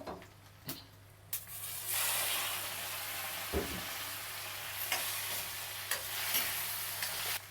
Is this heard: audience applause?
no